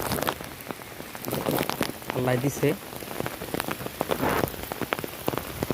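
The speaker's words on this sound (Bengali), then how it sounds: "আলহামদুলিল্লাহ আল্লাহর রহমতের বৃষ্টি" Rain falls steadily on a garden, a dense close patter of drops on leaves and surfaces, with someone speaking briefly over it.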